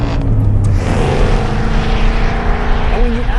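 A Ford Mustang's 5-litre V8 engine roars above 4,200 RPM, a throaty, sustained note with rising pitch sweeps near the end.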